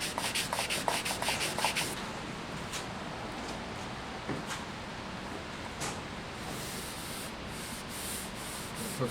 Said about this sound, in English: I'm re-sanding it.